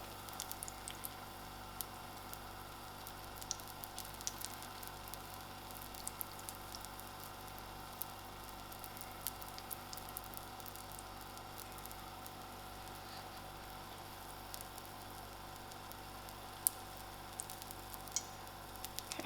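Koikutta dough sizzling in a pan about three-quarters full of hot oil, a steady faint crackle with scattered pops throughout, heard close and without talk.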